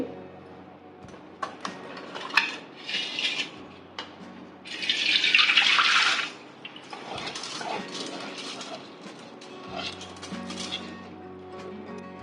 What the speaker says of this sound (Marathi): भिजवलेले तांदूळ मी एका चाळणीत काढून घेतले आहे. पाणी या भांड्यात निथळते आहे.